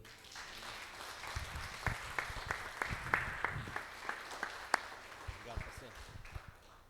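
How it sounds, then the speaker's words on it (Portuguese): Congregation clapping during a church service, fairly faint and sparse, with distinct individual claps falling in a loose rhythm alongside quiet voices. "Aplauda o Senhor"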